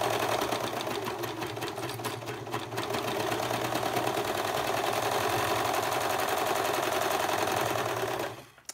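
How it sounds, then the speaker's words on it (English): A serger sewing a triangle gusset seam, a close, fast, steady mechanical whir and rapid stitching chatter running continuously before stopping abruptly at the end. "I'm going to start up at the top, not cutting anything off with my serger"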